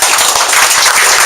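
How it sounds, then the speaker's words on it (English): An audience at a Bay Area launch event in San Jose claps hands, a brisk, dense patter of many claps close and loud, with no voices over it. "start clapping."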